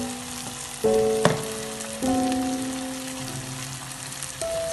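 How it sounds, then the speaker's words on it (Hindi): Dhaba-style chole masala fries in oil, a soft, steady sizzle with occasional stirring knocks and brief tonal ringing, heard up close without speech. "ऑयल सेपरेट होने तक इसको भूनेंगे।"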